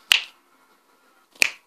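Two sharp finger snaps about a second and a half apart, close and crisp, each standing alone against near silence.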